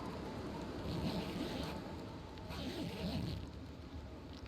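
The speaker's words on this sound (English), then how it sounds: "Wind doesn't sound very great." Howling wind in the video game The Long Dark at a coastal fishing village, a steady broadband rush that swells and eases in gusts, loud and continuous with no other sound over it.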